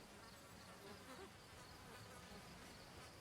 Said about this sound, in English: Look, the bee's stinging the monkey's head.